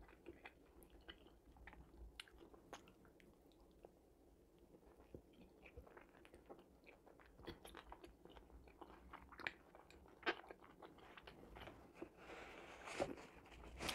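Quiet, close chewing of a homemade KFC-style burger, soft crunchy bites and mouth sounds scattered throughout, growing slightly busier toward the end.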